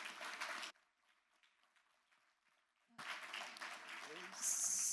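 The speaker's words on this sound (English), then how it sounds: "Can we give them another round of applause" Audience applause at a civic showcase event, with a burst of clapping, a short lull, then a second wave of sustained applause that grows louder toward the end, with faint voices mixed in.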